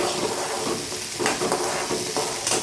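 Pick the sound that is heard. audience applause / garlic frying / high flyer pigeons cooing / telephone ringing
garlic frying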